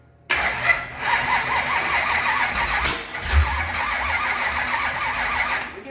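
A rebuilt 25-year-old race car engine cranks and catches abruptly, then burbles loudly at an uneven idle with a brief rev, up close and without talking.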